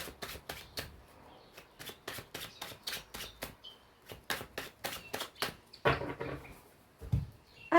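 Tarot cards shuffled and cut by hand, a quick run of crisp riffling slaps in steady rhythm, close and moderately quiet, ending with a few louder shuffles and a soft thump.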